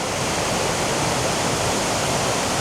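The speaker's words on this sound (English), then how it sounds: "we have made it to the very first waterfall" Roaring waterfall in Wales, swollen and powerful after heavy rain, a steady dense broadband rush of falling water that fills the whole clip at close range with no voices.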